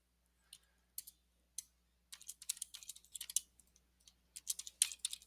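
Keys clatter on a computer keyboard, first as a few isolated taps, then in quick, irregular bursts of typing, close and fairly quiet, with no voices.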